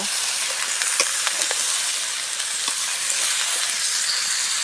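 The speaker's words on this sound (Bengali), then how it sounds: "কপি বেগুন আলু সবজি রান্না করা হচ্ছে" Cauliflower, eggplant and potato sizzle in a pan over a clay stove, a steady close hiss of frying with occasional crackles and stirring clinks, no voices.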